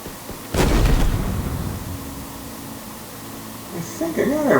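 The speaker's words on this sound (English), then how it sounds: "Just so I have room to jump, I'm going to go over here to the left, so I can fire the tank gun." A tank cannon fires in the video game Halo Infinite. One heavy blast lands near the start, then a rumbling tail fades out, and faint game tones come in toward the end.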